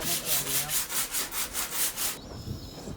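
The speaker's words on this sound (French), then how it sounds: "elle s'occupe de poncer l'intérieur" Hand sanding of gelcoat down to bare fiberglass inside a boat, a brisk rhythmic back-and-forth rasping of about eight strokes, close and steady, then stopping into quiet shuffling.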